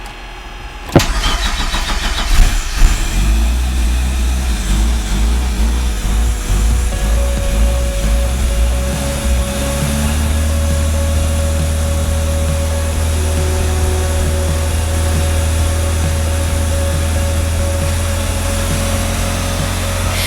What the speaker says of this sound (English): The engine's running and it's running pretty well